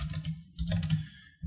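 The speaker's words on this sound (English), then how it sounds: "I'm going to click F2 on the keyboard to rename it" Several light keystrokes tap on a computer keyboard while a user renames a panel in a game editor, close and quiet in two short bursts.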